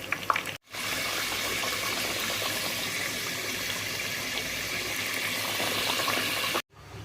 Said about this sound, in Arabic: بين ما نقلي الكوسة